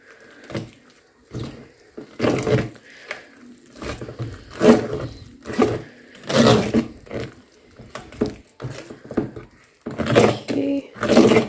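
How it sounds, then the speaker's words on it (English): Cookie dough being mixed in a bowl after milk is added, a series of repeated scraping and clattering bursts in an irregular rhythm, close and fairly loud. "we're going to add the half cup of milk that we had measured, bit by bit. Just going to mix it."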